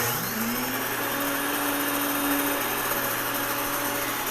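An electric grain mill grinding wheat spins up with a rising whine, then settles into a steady, loud, vacuum-like drone throughout.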